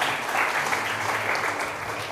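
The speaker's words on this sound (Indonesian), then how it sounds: "Wow, tepuk tangan buat Tuhan." An audience at a church gathering applauds in a dense, continuous burst of clapping that stays loud and steady for about two seconds.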